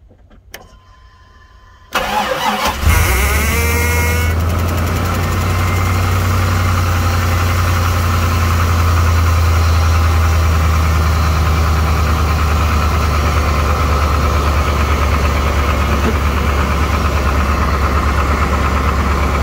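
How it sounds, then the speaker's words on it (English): A 1998 K1500 pickup truck cranking over and catching on a cold start in 9-degree weather, then settling into a loud, steady, rough idle with a deep low rumble that carries on alone for the rest of the clip. "we're going to give you a cold start on the truck."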